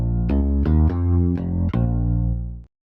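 A soloed synth bass line layered from two different synthesizers in a dance-track remix, playing a run of sustained, buzzy bass notes with sharp attacks that ends abruptly, with no other instruments.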